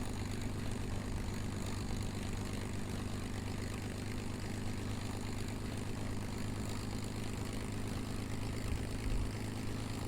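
A propeller aircraft in Kerbal Space Program drones steadily on its engine, a continuous, even hum and whir held at a constant level throughout, with no voices.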